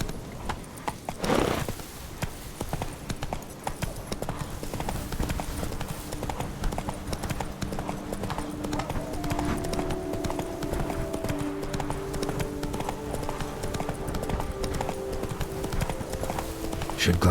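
Roach, the horse from The Witcher 3, trots steadily through the whole stretch with continuous close hoof clops, and a game music bed and ambience play underneath.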